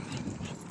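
A dog running close by, breathing and moving with a steady rustling, low-pitched noise throughout and no talking.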